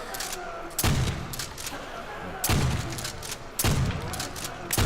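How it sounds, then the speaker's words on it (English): A trench gun shotgun fires in Call of Duty Zombies, on the Nacht der Untoten map. Three heavy blasts come at spaced intervals, loud and close, with crackling game noise between them. "Trench gun might not be the best weapon of choice."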